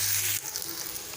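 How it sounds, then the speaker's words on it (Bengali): Jackfruit pieces and potato fry in a pan of oil, giving a steady close hiss that is briefly joined by a low hum before it settles into an even sizzle. "এঁচোড়টাকে আমি একটু ভাজাভাজি করে নিচ্ছি, সাথে আলুটাও দিয়ে দিলাম আমি।"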